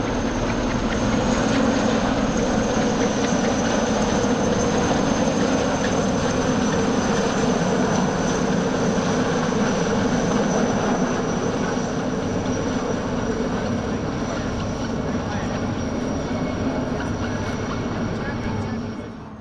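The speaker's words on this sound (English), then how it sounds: "see a formation of IR-330s, license-built SA-330 Pumas with some modifications." A formation of IR-330 helicopters, license-built SA-330 Pumas, flies past at an airshow in Romania, a loud, steady rotor and turbine roar sustained for the whole stretch before easing slightly at the end.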